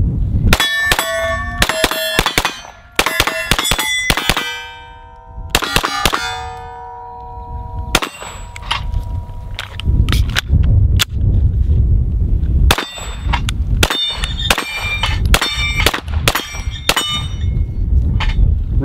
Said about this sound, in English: let's plink around a little bit here and see how we do.